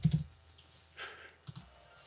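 A few quiet keystrokes tap on a computer keyboard while searching photos, scattered and irregular rather than a fast run of typing.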